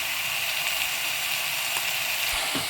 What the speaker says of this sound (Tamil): மஞ்சள் தூள் போட்டு நல்லா வதக்கிடுங்க